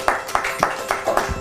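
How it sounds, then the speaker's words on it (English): Steady, evenly spaced claps ring out in a children's TV studio as an audience applauds a student, about five beats in quick rhythm over a soft background hum. "Let's give him a round of applause."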